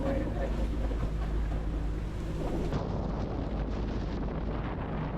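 Tropical storm winds above 50 knots roar across a sailboat at sea between Cayman and Colombia, a dense, unbroken rushing and buffeting that stays loud for the whole stretch.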